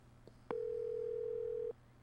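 Telephone dial tone in the Clock Tower video game, a single steady tone lasting just over a second after a click, fairly quiet and alone.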